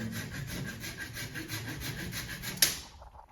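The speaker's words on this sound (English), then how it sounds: "I like to use a saw. You get a bit of a cleaner cut on everything." A hand saw cuts through a thick branch of a potted fig tree in winter storage, with rapid rhythmic back-and-forth rasping strokes close by that end in a sharp snap as the cut finishes.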